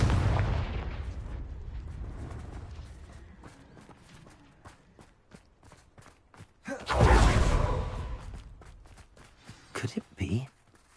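Spell blasts and explosive bursts from the Hogwarts Legacy video game, with a heavy thumping blast in the middle and sharper cracks near the end over rumbling game ambience, loud and close.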